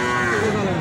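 One sustained, close cattle moo fills a brief moment at a busy village cattle market in Mahadevpur, Naogaon, with crowd noise underneath.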